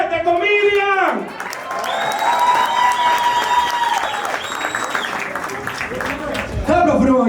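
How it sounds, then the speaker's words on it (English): A crowd at an outdoor comedy roast claps and cheers for a comedian, with whoops and shouted voices riding over steady applause throughout. "Lily, start clapping your hand for Red, the comedian!"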